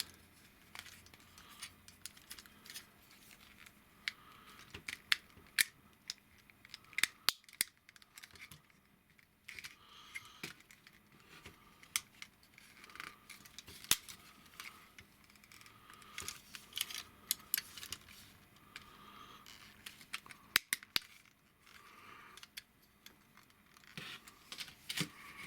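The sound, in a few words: folding plastic Transformers figure leg, Maketoys Screamer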